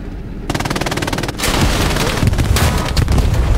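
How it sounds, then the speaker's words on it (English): Heavy weapons fire aimed at an enemy tank in the video game Hell Let Loose, a loud rapid burst followed by a booming blast and sustained rumbling, crackling fire. "I'll hit him with my rockets, mate."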